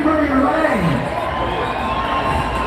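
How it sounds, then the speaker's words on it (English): Crowd cheering and shouting on Fremont Street, a steady roar of voices and whoops from a dense group at close to mid distance, continuing throughout. "Very light crowd out here."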